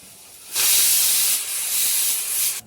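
Coriander drops into hot oil and sizzles with a loud, sudden hiss that holds steady for about two seconds, then fades. The frying comes through alone, with no talk.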